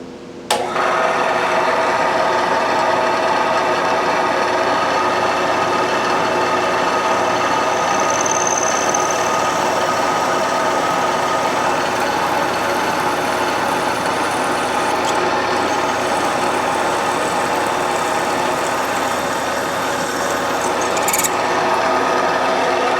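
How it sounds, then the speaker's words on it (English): A loud, continuous mechanical whine of a drill boring a cable hole in a metal Yamaha 250MX clutch actuator part, running steadily for a long stretch, with a brief higher squeal near the end. "now we're going to drill"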